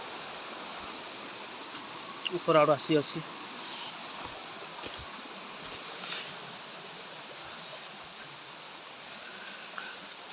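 A waterfall high on a hillside pours as a steady, faint broadband rush that persists throughout, with someone speaking briefly over it and a few scattered knocks.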